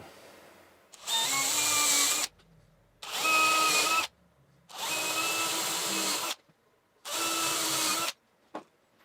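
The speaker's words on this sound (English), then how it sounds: "And put some screws in it." Power drill driving screws into a wooden jig, whirring in four loud bursts of one to two seconds each separated by brief pauses, close up with no talk.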